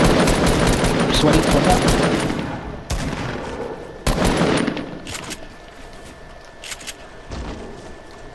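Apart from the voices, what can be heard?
gunfire in Fortnite video game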